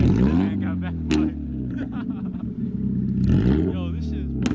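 An Infiniti G35 with coilovers fitted growls close by with loud revs that climb and fall twice, while people talk excitedly over the engine.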